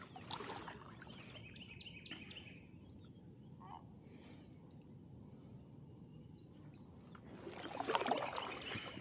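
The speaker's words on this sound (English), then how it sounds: "There are so many varieties of birds." Wild birds chirp and call in short, faint bursts around a kayak on a Florida waterway near Tampa, over a steady wash of water and outdoor noise that swells near the end.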